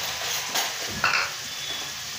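Minced meat (keema) with spices is stirred in a frying pan over low to medium heat, giving a steady sizzle with a couple of scraping stirs of the spatula against the pan.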